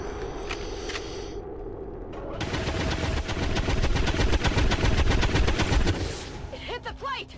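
Rapid automatic gunfire bursts from overwatch shots in the video game XCOM 2, a loud sustained volley of dense repeated cracks lasting several seconds, followed by a few sharper electronic chirps as it ends.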